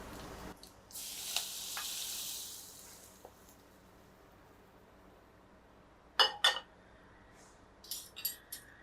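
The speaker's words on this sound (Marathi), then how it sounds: "इथे आता आपण ही गरम फोडणीच या तेलावर घालणार आहोत" Hot tempering oil poured over onion pickle sets off a strong, steady sizzle lasting about two seconds, then quiet, followed later by a few sharp clinks of utensils.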